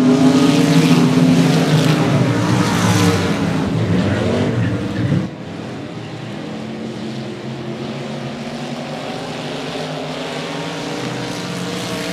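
Loud race-car engines roar past at 105 Speedway, a close, blaring pass that drops away sharply midway and leaves a quieter, sustained engine drone from cars farther around the track.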